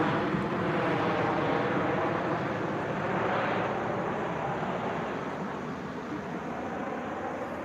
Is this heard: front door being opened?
no